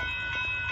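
A northbound Union Pacific intermodal train passes at Dittmar Road in Austin, Texas, a steady, moderately loud rail rumble with rolling wheel noise throughout.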